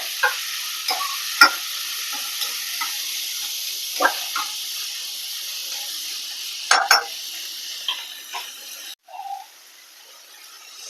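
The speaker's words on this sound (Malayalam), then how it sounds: "ഇനി നമുക്ക് തക്കാളിയും പച്ചമുളകും ഇട്ട് കൊടുക്കാം തക്കാളിയും പച്ചമുളകും സവാള എല്ലാം നല്ല ഉറവാടി വരട്ടെ" Onions, tomatoes and green chillies sautéing in a pan for Kerala-style nellikka rasam, a steady close sizzle with occasional stirring clinks and scrapes, fading near the end.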